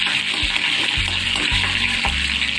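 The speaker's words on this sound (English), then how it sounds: "And once they begin to splutter, add the curry leaves." Curry leaves and chilies spluttering in hot oil while making khaman dhokla, a loud steady sizzle with repeated popping bursts and low thumps of stirring, no voices.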